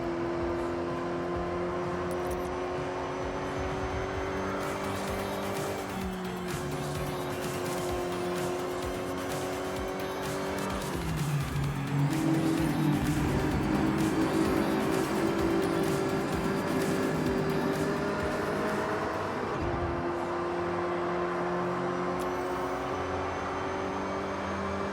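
A race car in Forza is pushed through a quick lap with a steady, loud engine drone that shifts pitch through gear changes and corners, and brief tire squeal midway.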